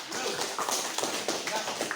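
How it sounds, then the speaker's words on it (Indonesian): Children in an Indonesian primary-school class clap briefly in a quick, scattered patter of handclaps, fairly soft. "Terima kasih, tepuk tangan untuk kalian semua"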